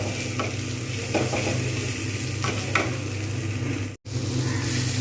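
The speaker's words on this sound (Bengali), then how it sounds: "আমি কিন্তু বেশ কিছুক্ষণ দু তিন মিনিট আমি ভালো করে নেড়ে নেব যাতে তলায় না বসে যায়" Moong dal cooked with a rohu fish head and tomatoes is stirred in a pan over low heat, giving a steady close sizzle with soft scraping strokes and no voices.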